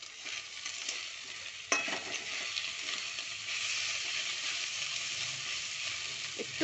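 Vegetables for fried rice sizzling and frying in a pan, a steady close crackle with occasional stirring clatters and sharp scrapes, no talk.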